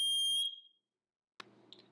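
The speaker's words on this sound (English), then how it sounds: "that is the fire alarm." Indoor fire alarm sounding one loud, shrill electronic beep that cuts off and rings out briefly, followed by silence and then quiet room noises.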